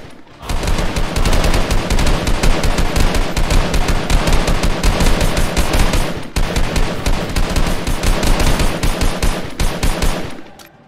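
Rapid, sustained gunfire bursts from several guns firing together, loud and close, with sharp repeated cracks running almost continuously for about ten seconds and a brief pause near the middle.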